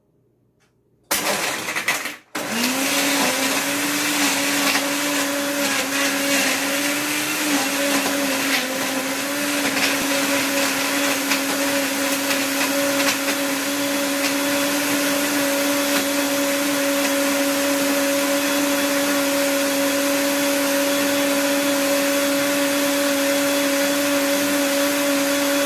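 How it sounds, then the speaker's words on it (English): After a short silence and a click, a blender starts and runs steadily, loud and close, blending a mango smoothie with ice cubes and water; a strong sustained motor whine holds for over twenty seconds with slight shifts as the contents settle. "Now we blend."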